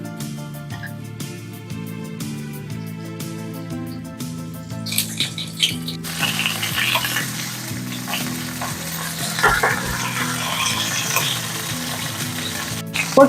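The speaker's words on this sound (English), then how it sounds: "I'm going to start off by browning the meat." Meat browning in olive oil in a cast iron roasting pan gives a steady sizzle and crackle that swells midway and holds, close and fairly loud, with faint clinks over it.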